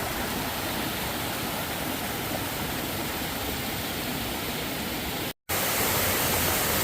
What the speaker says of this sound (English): Look at this little pool of water. It's like a little whirlpool.